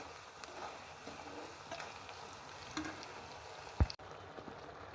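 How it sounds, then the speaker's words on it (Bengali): Shrimp sautéing in an open pan, a steady low sizzle and crackle under faint stirring clatter, close and moderate, ending with a brief louder knock, no one talking. "চিংড়িটা আমি কষিয়ে নিয়েছি"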